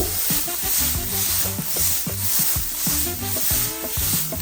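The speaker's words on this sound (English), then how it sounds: "now we're gonna throw in our steak" Steak sizzling hard in a hot pan for fried rice, with scallion and garlic already in, stirred with rhythmic scraping and clacking of the utensil at a quick regular pace, close and fairly loud, with no voices.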